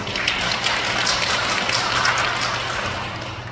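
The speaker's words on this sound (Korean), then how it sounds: "박수 한번 또 쳐줘야겠네." A church congregation during a homily on the feast of Saint Mark gives a soft, brief round of applause, light scattered clapping heard at a moderate distance.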